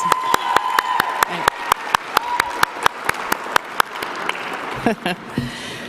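An awards ceremony audience claps for honor roll students, with one close, sharp clapper striking a quick regular beat over the wider applause, which tapers off as voices begin.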